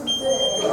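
An intruder alarm in an empty old house beeps with a steady high electronic tone, continuous and fairly close, with a lower hum beneath it.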